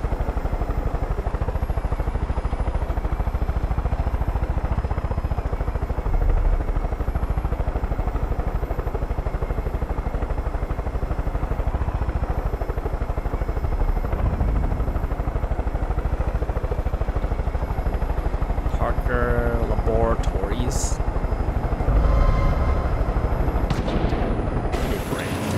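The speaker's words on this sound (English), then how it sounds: "That stupid plane, man." Plane droning in Far Cry 5, a continuous engine rumble mixed with bursts of gunfire and a helicopter-like clatter, with a voice speaking under the noise.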